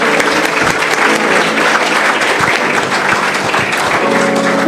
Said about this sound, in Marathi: जोरात टाळ्या वाजूया.